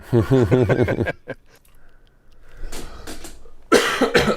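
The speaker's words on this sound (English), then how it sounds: "periodically I'm just going to just blow your ears out with a cough" A person recovering from a bad head cold coughs in several harsh, separate bursts. A brief stretch of voice comes first, then quieter gaps between the loud, close coughs.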